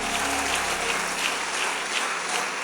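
A church congregation applauding Jesus at a sermon, with dense continuous clapping from a large crowd, loud and steady for the whole stretch, with no other voices.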